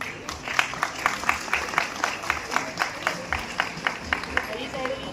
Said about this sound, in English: Kindly show your energy with a round of applause.